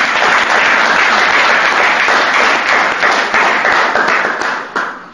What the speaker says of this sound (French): je vois qu'on applaudit le Saint-Esprit encore